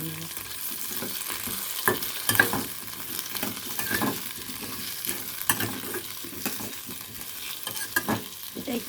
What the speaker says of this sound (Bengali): এর মধ্যে আমি দিয়ে দেব পেঁয়াজের পেস্ট। এবার ভালো করে নেড়ে নেব।